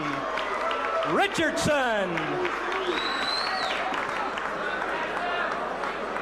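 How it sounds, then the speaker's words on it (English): Spectators at a heavyweight boxing event, with Fast Eddie Richardson of Tyler, Texas, being introduced, applaud and cheer as a broad crowd roar under loud whistles and shouts, with voices carrying through the arena. "How about a round of applause for Fast Eddie Richardson?"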